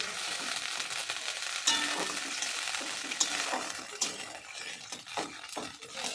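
Spice masala for ghugni being stirred and fried in a pan, a steady close sizzle with repeated scraping stirs and light clinks of utensil against metal throughout.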